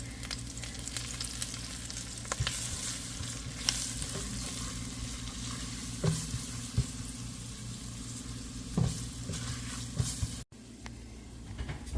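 Onion, peppers, masala and curry spices sizzle steadily in a pot, with occasional scraping stirs and light clinks over a constant frying hiss, ending in a brief cutoff.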